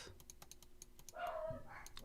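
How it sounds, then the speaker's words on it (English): Several dogs bark excitedly on the floor above, muffled and distant, in two short bursts behind close, quick computer-keyboard typing and clicking. "my dogs are going berserker upstairs"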